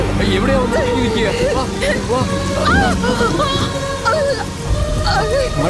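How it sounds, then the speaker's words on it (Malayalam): Heavy rain pours down in a dense, steady roar across the whole stretch, loud and close, with music and voices layered over it in a film scene. "മഴ കൂടുന്നല്ലോ."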